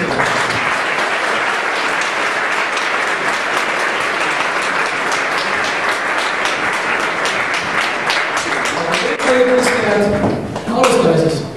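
Audience applause fills a studio quiz-show hall, a dense, steady wash of many hands clapping loudly throughout, swelling briefly near the end.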